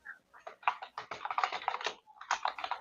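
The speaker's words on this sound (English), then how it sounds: "I'm just typing in." Fast, continuous typing on a computer keyboard, a dense run of close key clicks with a brief pause before more keystrokes.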